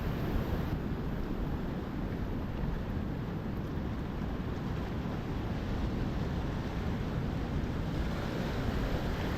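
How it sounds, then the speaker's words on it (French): Huge waves from a stormy sea roar along the shore in a dense, unbroken wash of surf, loud and continuous, with heavy wind buffeting across the whole stretch. "Des vagues énormes, énormissimes."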